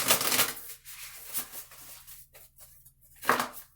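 Tarot cards being shuffled by hand in a quiet room, with a few short papery riffles and slides in separate bursts, soft and close, with pauses between.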